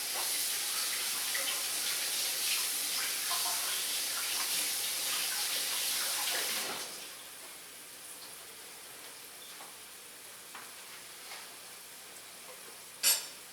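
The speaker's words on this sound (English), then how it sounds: "I'm going to quick wash this off" Water running from a kitchen tap while something is washed off, a loud, steady close hiss for about seven seconds, then stopping and leaving faint clatter and a sharp knock near the end, with no talking.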